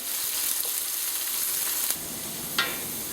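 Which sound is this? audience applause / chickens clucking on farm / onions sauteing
onions sauteing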